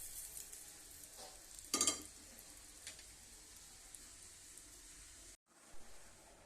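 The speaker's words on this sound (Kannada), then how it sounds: "ಇದು ಒಗ್ಗರಣೆ ಹಾಕ್ತೀನಿ ನೋಡ್ರಿ." Tempering of urad dal, curry leaves and dried red chillies in oil for peanut chutney, a faint steady sizzle with a brief louder hiss burst and light stirring clinks, no voices.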